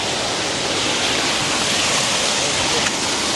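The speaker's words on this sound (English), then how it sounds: "The river." Continuous broad rushing of a river flowing near a resort, a loud even wash of water throughout with no clear speech on top.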